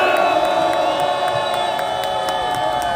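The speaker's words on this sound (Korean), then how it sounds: "힘찬 함성으로 시작하도록 하겠습니다" A crowd at an outdoor press conference protesting the prosecution of former party leader Song Young-gil raises a loud cheer, sustained shouting and whooping with a steady tonal hum underneath, over rhythmic background thumps.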